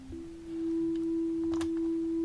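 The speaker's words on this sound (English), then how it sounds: "I'll go to sine wave here because saw waves don't wavefold that well" Korg opsix synthesizer playing a sine wave through wavefolding, a steady pure sustained tone that holds alone with brief buzzy harmonic flickers layered on top.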